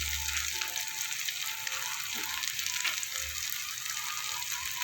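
Ground spices including Kashmiri chilli, cumin and coriander powder sizzle with a little water in a pan for jackfruit curry. The frying hiss is soft and steady, with faint stirring and scraping sounds under it.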